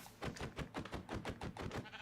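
A sheep in Minecraft bleating while being punched, a rapid string of short, fairly faint bleats close together over about two seconds, with no speech.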